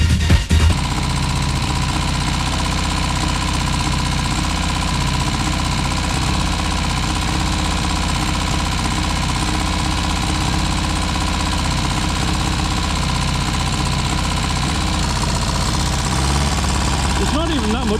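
An old car engine runs rough and misfires, chugging loudly and continuously at close range with an uneven, knocking pulse throughout.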